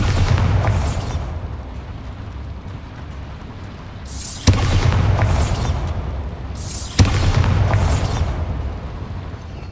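Three Bombarda spell explosions go off in the Hogwarts Legacy video game, each a loud booming burst with a crackling, bright tail, spaced a few seconds apart over a constant low rumble.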